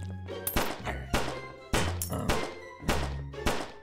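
Gunshots in the shooter game Son of a Gun, six sharp loud bangs spaced about half a second apart, each with a booming low tail, no talk over them.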